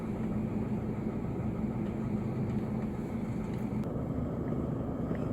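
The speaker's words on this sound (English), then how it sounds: "so now I'm reversing about 2 kilometers home in reverse" Toyota Hilux engine running steadily while the pickup is driven in reverse after a gear selector fault, a constant low rumbling drone with no talk.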